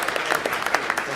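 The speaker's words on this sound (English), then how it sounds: "We can clap for him." Brief clapping from an audience at a school event honoring an academic all-state boys cross country runner, a short burst of scattered hand claps.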